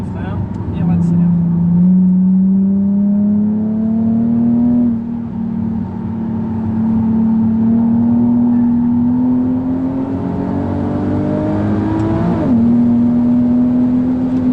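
A Nissan 370Z roadster accelerating hard on the Nogaro race circuit, its engine note climbing steadily through the gears with a brief dip at a shift, loud and close from inside the car, with an instructor's voice over it.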